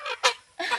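A chicken gives two or three short, loud, harsh squawks in quick succession, close up, as it is let go in a village yard.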